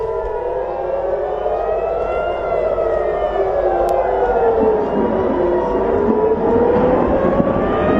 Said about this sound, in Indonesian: sirine peringatan serangan berbunyi di langit-langit Israel